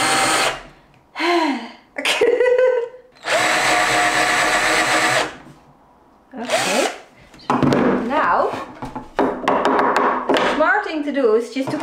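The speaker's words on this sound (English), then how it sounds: "Can I just sit on top of this thing and then drill into it?" A handheld power drill bores into a wooden board containing a piece of metal in several loud bursts, a sustained whine with pauses and clatter between runs, while a person talks in the gaps.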